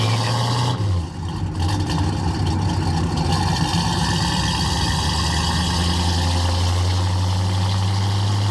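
A 1966 Pontiac GTO with a 389 V8 and four-speed idles steadily on a cold day as it warms up, a deep, even rumble close by with a brief dip near the start and no talk.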